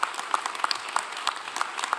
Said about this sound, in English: if you could give them a great round of applause for the great work that they have done